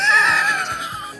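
A sheep or pig dies in the Minecraft video game with a single loud, close, wavering bleat-like cry that slowly falls and fades over about a second.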